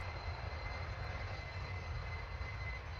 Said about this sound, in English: firing the rocket engine slowed it down